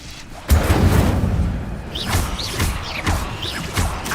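Incendio fire spell cast in Hogwarts Legacy on PS5: a sudden heavy burst lands early, followed by rumbling crackle and a few rising whooshing swoops, loud and close.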